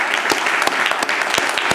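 Audience applause at the launch of a classical ghazal CD, a dense, steady clatter of many hands clapping indoors with a few sharper individual claps standing out, continuous and fairly loud with no talking.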